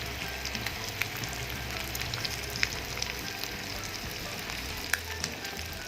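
Sagara Kanya fish frying in a pan, a dense continuous sizzle with scattered sharp oil pops, close and steady with no voices.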